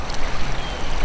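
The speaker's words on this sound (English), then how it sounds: "this is the sort of end of winter ice out flood" An end-of-winter ice-out flood sends water rushing hard, a loud dense broadband roar over one short continuous stretch.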